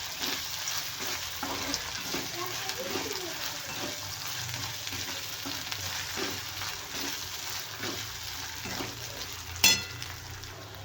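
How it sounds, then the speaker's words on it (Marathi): Onion and ginger paste frying in a pan with a quiet, steady sizzle, while a utensil scrapes and stirs in repeated strokes, with one sharper clink near the end. "थोडासा लाल होईपर्यंत आपल्याला कांदा भाजून घ्यायचा आहे आणि आलं पेस्ट घातली आहे एक चमच ते परतून घेते"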